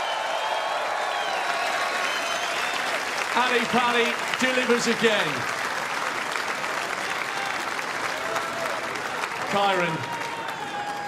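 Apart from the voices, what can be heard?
snooker audience applause for both finalists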